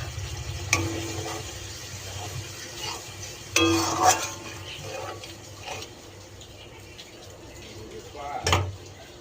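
A little water splashed into a pan of frying doi katla fish curry masala with slit green and ripe chillies, sparking a sharp hissing burst over a steady sizzle and clattering stirring, with a voice talking.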